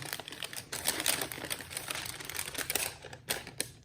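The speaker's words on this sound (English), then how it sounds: "Comes with the orange wrapping paper." Orange wrapping paper unfolded from a Nike shoe box, giving a steady run of crisp crinkling and rustling bursts close by for several seconds.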